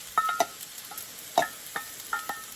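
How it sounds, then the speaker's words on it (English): Corn fries in a pan with onion and bell pepper, sharp scraping stirs and clinks landing several times over a faint sizzle, close and without talk. "So we're going to fry that corn up in there some."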